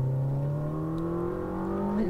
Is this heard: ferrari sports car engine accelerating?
yes